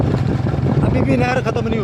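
Motorcycle ridden along a canal road in rural Punjab, its engine rumbling under rushing wind noise while someone talks over the ride.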